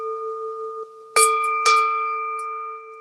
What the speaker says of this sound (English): the ringing of the bell is kind of a cool way to kind of clear your mind before you start mindfully eating